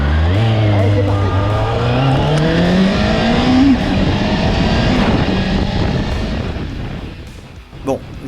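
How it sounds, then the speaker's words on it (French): A Kawasaki ZXR 400 motorcycle engine revs up loud and close, its pitch climbing steadily through a long acceleration before easing off, with road and wind noise underneath. "Le bruit du moteur est dément quand on accélère"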